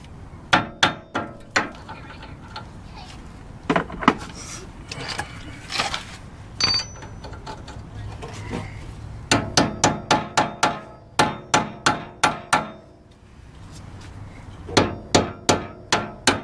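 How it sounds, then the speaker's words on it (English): Impact wrench working on a rusty cotter pin during wheel spacer repair on a car, delivering loud, close bursts of rapid metallic hammering rattles in several runs, with pauses between. "Got that cotter pin with the impact."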